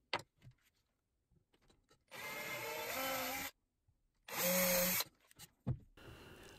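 Two sustained whirring bursts of a power drill boring into a cabinet to fit a magnetic catch, each lasting about a second or more, close by, with quiet handling noises and clicks in between.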